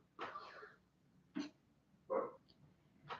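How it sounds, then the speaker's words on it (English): Dog barking at someone walking past outdoors: four short separate barks spread over a few seconds, moderately close, with no talking. "For Bruno to bark at."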